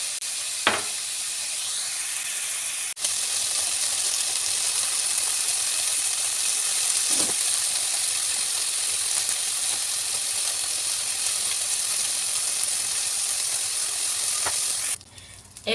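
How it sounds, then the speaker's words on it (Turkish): Chicken frying in a pan with a steady, loud sizzle and hiss, plus a few faint clinks and no talking. "Evet arkadaşlar tavuklarımız kızardı."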